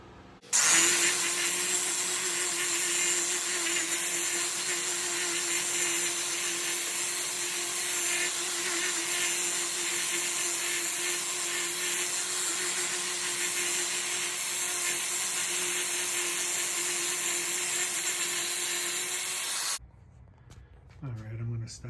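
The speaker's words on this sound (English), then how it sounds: "I'm gonna start back at 80 grit and sand all through the grits." A natural-edge platter of Brazilian pine, a rare Araucaria cross, is sanded on a woodturning lathe starting at 80 grit, giving a steady close hum and abrasive hiss that runs unbroken for about twenty seconds before stopping abruptly.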